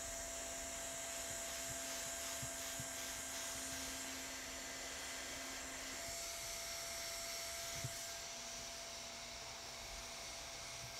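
Hot air welder fusing GAF EverGuard PVC roofing membrane, a steady close blowing hiss with a constant tonal whine running throughout, no talking.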